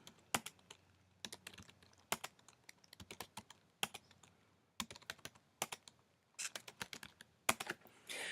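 Email addresses typed on a computer keyboard, irregular bursts of crisp close key clicks separated by short pauses, quiet and alone with no voices.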